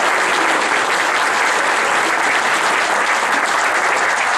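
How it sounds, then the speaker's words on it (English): A summit audience gives sustained applause for three speakers, thick continuous clapping from a large crowd that stays loud and even throughout, with no voices over it. "Let's give a round of applause for all three."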